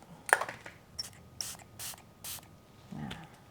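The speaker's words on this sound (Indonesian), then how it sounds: "Yuk, kita semprot. Pertama, nih, ini tak semprot sama yang matte." Matte makeup setting spray is misted from a pump bottle in a series of short, crisp hissing bursts, about five in a row with brief pauses between, close to the microphone and with no talk over them.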